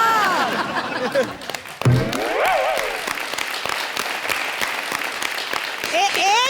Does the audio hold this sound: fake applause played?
yes